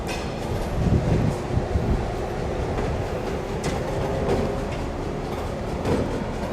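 Orlando and Northwestern locomotive 1510, a 1963 diesel, rumbles steadily at close range while its railcars clatter along the track, with a low continuous engine drone and occasional rail clicks and squeaks.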